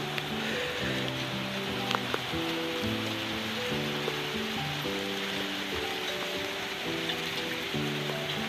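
Rain pours steadily onto a mud house in a dense, even hiss that holds at the same level throughout, with faint tonal sounds layered on top.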